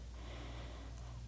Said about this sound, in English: That's a nice deep breathing here.